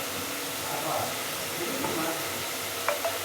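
Spice powders for mushroom biryani are stirred and fried in a pan, giving a steady soft sizzle and hiss with faint scraping stirs and a brief clink near the end.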